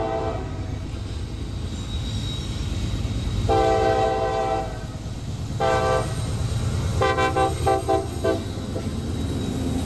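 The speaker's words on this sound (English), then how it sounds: "this rock hopper train that caught me at 11th Street leaving Cordele" CSX rock hopper freight train passing near Cordele, Georgia, on the Fitzgerald Subdivision: a constant rumble of rolling wagons with several loud horn blasts, one long and then shorter toots, fairly close.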